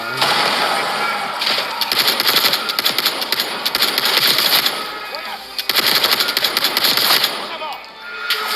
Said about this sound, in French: L'ennemi a une mitrailleuse.